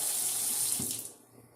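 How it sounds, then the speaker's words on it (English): Hot tap water running into a sink while a glass jar is rinsed, a bright steady hiss and splash that tapers off as the tap shuts, with no talking. "so I'm going to go ahead and just rinse off the jar in hot water"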